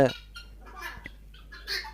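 Tithi chickens on a poultry farm give a few short, soft clucks and calls, faint and close, with quiet gaps between them.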